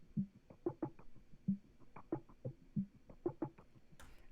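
Quiet percussion loop from a Spice drum kit, a sparse syncopated pattern of dry knocks and clicks repeating evenly, ending with a brief noisy burst.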